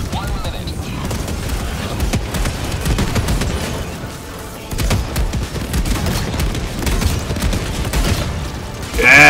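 Mortar blasts and fusillades of gunfire in the co-op shooter Helldivers 2 during a planetary defense battle, repeated booms and rattling shots rolling through the fight, with players talking over them and a sharp burst near the end.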